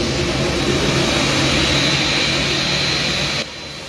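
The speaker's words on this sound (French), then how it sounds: "c'est un avion pays Kenya" Jet aircraft carrying the Kenyan president's delegation on the runway at an international airport in Haiti, a loud steady engine roar close by that holds throughout and drops slightly near the end.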